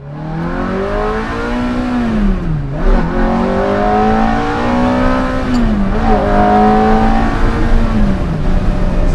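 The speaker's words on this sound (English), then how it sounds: "that is the sound of the F430 ripping into fourth gear here" A Ferrari F430 engine revving hard and close, pitch climbing, dropping at a gear change, then climbing again as it accelerates into fourth gear.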